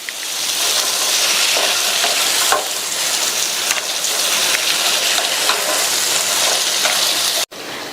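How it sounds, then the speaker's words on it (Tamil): Cut potatoes stirred and fried with masala in a pan, a loud, dense, continuous sizzle close up, with one sharp clack near the end and no voices. "இப்போ இந்த மசாலாவோடு சேர்த்து நல்லா பிரட்டி விட்டுக்கலாம்."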